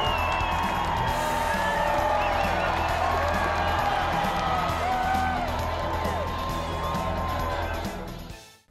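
A crowd roars with cheers, whoops and scattered claps for a school staff recognition, holding steady before fading out at the very end.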